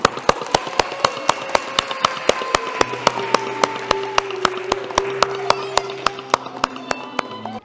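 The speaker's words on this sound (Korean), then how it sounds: "자, 우리 박수." A congregation at a Korean church's Sunday service in Berlin claps in sharp, regular unison beats, steady and fairly close, over a faint sustained tonal hum in the background.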